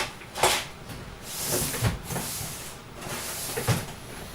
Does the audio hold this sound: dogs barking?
no